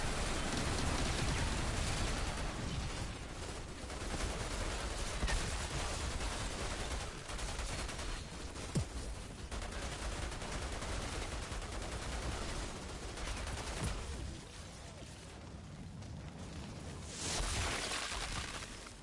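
Automatic sniper rifle fire in the shooter game Outriders, a dense, loud stream of rapid shots running almost continuously, easing briefly near the end before another burst.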